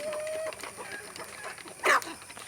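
Native chickens, including some black Kadaknath chickens, cluck nearby, with one short sharp squawk standing out over a soft background of farmyard noise.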